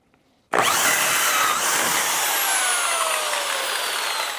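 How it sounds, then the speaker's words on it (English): A power drill starts abruptly and grinds steadily with a harsh, raspy whir as a hole saw cuts through a drywall board, close and loud throughout. "we're going to use a hole saw on a drill"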